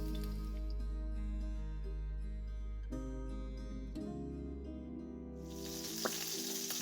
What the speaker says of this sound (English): Make a nice big sizzle.